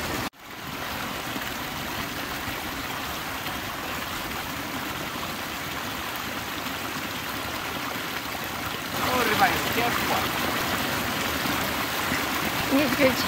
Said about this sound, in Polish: a tu ciekła woda.